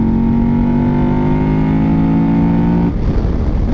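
A remapped KTM 1190 Adventure motorcycle on mixed tyres accelerates hard, its loud, steady engine note climbing in pitch before it cuts off abruptly near the end.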